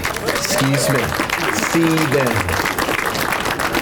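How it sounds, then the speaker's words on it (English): Audience clapping for a former mayor at a historical marker press conference, a broad wash of applause running underneath a voice that carries over it the whole time. "Will you all clap your hands for him?"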